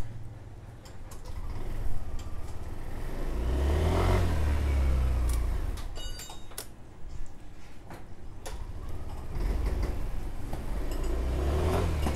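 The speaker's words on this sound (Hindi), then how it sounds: "चलिए एक बार बाइक को स्टार्ट करते हैं।" A Yamaha Aerox BS6 scooter with a replaced self-start relay cranks and starts, then its small engine revs in two swells with a clicking tick running through, close to the listener.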